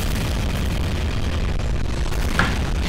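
Cannon fire in a video game, a continuous loud roar of blasts and rumble with a brief sharper burst near the end.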